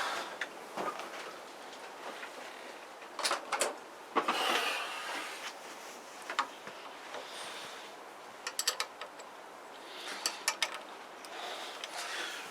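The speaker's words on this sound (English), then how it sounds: "Get a 10mm spanner." Metal spanner working a lock nut during assembly of a Zontes Tiger 125 motorcycle: scattered sharp metallic clicks and short scraping bursts, close by, with no talk.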